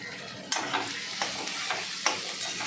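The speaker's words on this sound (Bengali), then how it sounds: "আমি একটু ঝপ করে চাউমিন করছি তাড়াতাড়ি করে" Food sizzles in a hot pan while a utensil scrapes and tosses it in about five quick, separate strokes.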